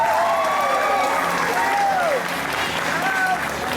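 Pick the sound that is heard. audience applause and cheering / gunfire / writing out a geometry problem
audience applause and cheering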